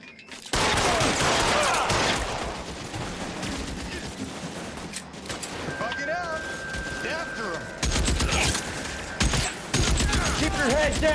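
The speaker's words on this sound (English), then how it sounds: "Okay, a lot of shooting here." A heavy gunfight in the game L.A. Noire, with dense volleys of rifle and pistol shots cracking almost continuously, loud and close, while voices talk over the shooting and a sustained tone briefly rises midway.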